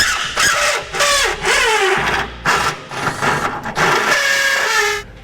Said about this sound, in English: now let's get our rotary tool with a carbide bit and enlarge our hole